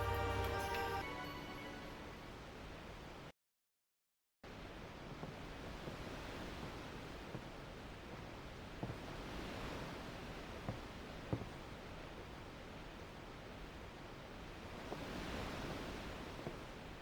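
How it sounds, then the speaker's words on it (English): Soft, steady wind blows through a Final Fantasy X game scene, a quiet airy rush that swells gently in waves, briefly cut by a moment of silence and a few faint clicks. "The wind. It's nice."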